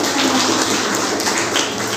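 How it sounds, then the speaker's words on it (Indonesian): Seminar audience applause, a steady dense patter of many hands clapping that fills the whole moment, fairly loud and close with no talk over it. "Terima kasih tepuk tangan"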